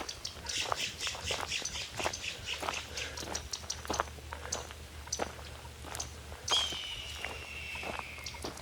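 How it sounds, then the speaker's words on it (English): A red-tailed hawk screams once from high overhead, a single faint, descending cry rising above nearby footsteps crunching through outdoor ground cover. "you can hear that red-tailed hawk"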